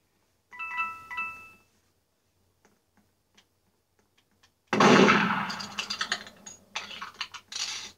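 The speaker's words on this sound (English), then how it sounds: "Why is this person just shooting me?" Gunfire in a murder mystery video game: a brief electronic beep, a few faint ticks, then a loud sustained burst of noisy shots and crackle that comes in uneven bursts toward the end.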